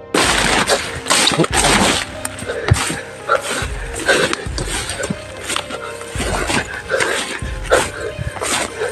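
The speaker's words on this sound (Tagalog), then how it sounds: "Dogs!" Dogs bark and yip near a family house in a run of sharp, fairly close barks spread across the clip, with people's voices heard among them.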